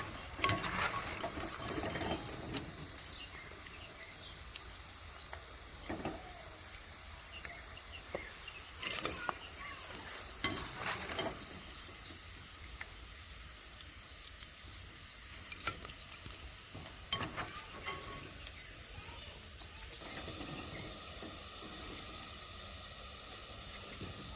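Raw mango pieces frying in a pan give off a steady soft hiss and sizzle, with occasional clinks and scrapes of stirring scattered throughout and no talking.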